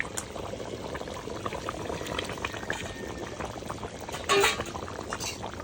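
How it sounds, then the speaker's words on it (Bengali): Fried potatoes drop into a pot of simmering country chicken curry, with a soft bubbling and liquid sloshing bed and a brief louder splash near the end, fairly quiet and close. "এই যে আলুটা আমি ভেজে রেখেছি, এবার আমি আলুটা দিয়ে দেবো।"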